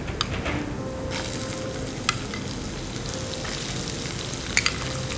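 Steady frying sizzle of cashews in hot oil, a dense continuous crackle with occasional sharper pops and light stirring scrapes.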